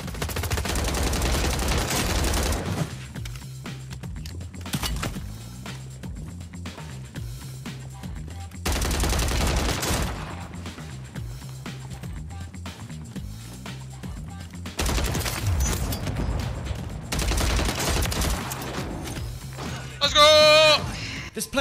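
Striker SMG fire in the Warzone 3 video game, several long rapid automatic bursts separated by quieter stretches, loud and close, with a final burst of sharp metallic hits near the end.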